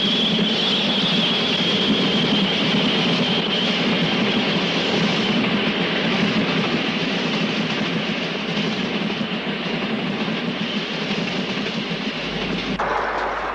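A GWR King class steam locomotive passes Hatton station northbound for Wolverhampton in 1962, on a climb of nearly 1 in 100. A loud, steady rumble and clatter of the passing train fills the whole stretch, with no voices.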